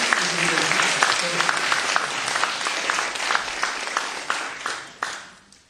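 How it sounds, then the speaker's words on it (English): Audience applause for a woman after her confirmation testimony in a church, steady dense clapping from a moderate distance that thins out and fades toward the end. "Let's give Janine a clap."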